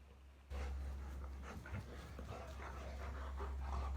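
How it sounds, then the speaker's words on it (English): An excited dog pants and whimpers at a low level indoors during a leg workout, with steady quick breathing and no speech. "Dog's going crazy right now."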